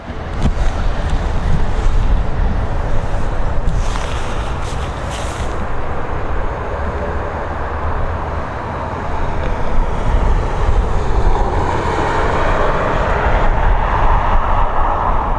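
Loud, steady roar of a Boeing 737 airliner landing on the runway with a blown front tire, a broad rumbling wash of engine and wheel noise that continues throughout without voices.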